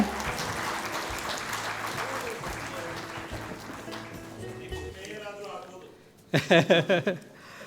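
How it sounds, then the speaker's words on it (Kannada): Audience applause at a Kannada HR awards or felicitation event, a dense broad patter of clapping that fills the first several seconds and then thins out, with speech at the end. "ಪೆವಿಲಿಯನ್ಗೆ ಕೇಳಿಸ್ಬೇಕಲ್ಲ ನಿಮ್ಮ ಚಪ್ಪಾಳೆ"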